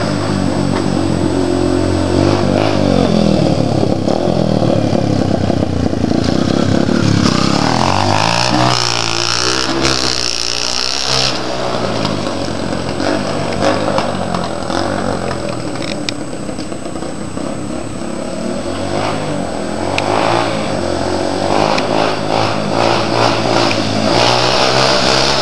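A Yamaha TTR 125 dirt bike revs hard in third gear while pulling wheelies, its small single-cylinder engine buzzing loudly as it approaches, sweeps past close by and winds on into the distance.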